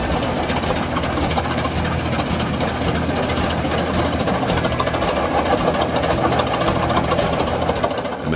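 A ten-ton Holt 75 tractor's combustion engine runs with a loud, dense, continuous knocking rumble that holds steady throughout.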